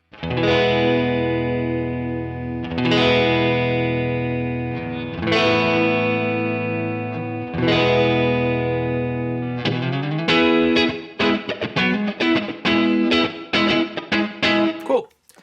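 Clean electric guitar chords from a PRS Silver Sky neck pickup ring out and sustain several times, then a faster run of picked single notes and short strums follows, close and full.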